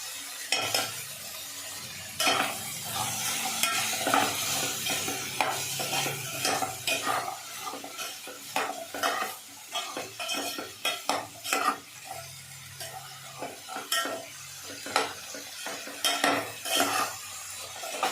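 Vegetables for dalia khichdi, seasoned with salt and turmeric, sizzle lightly in a pan as a utensil stirs and scrapes them repeatedly, with clinks of metal against the pot throughout.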